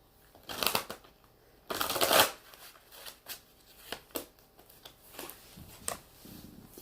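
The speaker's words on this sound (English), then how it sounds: "One more shuffle, guys." Tarot cards are shuffled in several quick riffling bursts, the first two loudest, followed by softer, evenly spaced flicks and taps.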